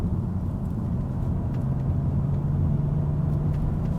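A BMW engine running with its throttle controller set to 5, roughly half throttle, gives a steady, loud, low rumble that rises slightly partway through, with no talking.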